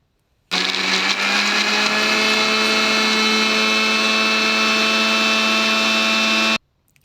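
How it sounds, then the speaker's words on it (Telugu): A mixer grinder blending bottle gourd and tomato chutney starts abruptly, whirs loudly and steadily for about six seconds, then stops. "ఇవైతే వేసి మిక్సీ పట్టుకోవాలి"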